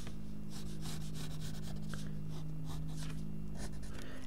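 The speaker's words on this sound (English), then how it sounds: "We're going to draw two lines." Pencil strokes drawing the lines of a gun on paper, with a soft scratchy rubbing and a series of short strokes over a low steady hum, close and fairly quiet.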